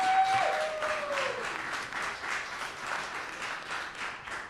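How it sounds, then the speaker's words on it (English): A crowd at a tech event gives a short, light round of applause, fairly soft and distant, rising briefly before tapering to a scattered clatter of hands; a brief whistle-like tone sounds at the start. "Let's give it up real quick. A little clap."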